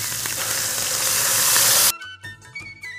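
Tomatoes hitting hot oil with ginger, garlic and turmeric in a pan, a loud steady sizzle that cuts off abruptly, followed by quieter clattering and faint kitchen sounds.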